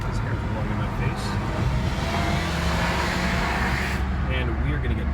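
Continuous road and engine roar from inside an Infiniti car driving along, steady and fairly loud, with wind noise and a person talking over it.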